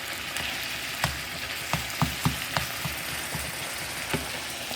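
Chopped meat frying in a pan for lasagna, a dense, steady sizzle with occasional soft clicks of stirring.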